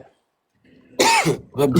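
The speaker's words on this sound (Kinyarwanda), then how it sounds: "Ntangiye gukorora" After a moment of quiet, a loud close-up cough breaks out, followed quickly by a second rough throat burst.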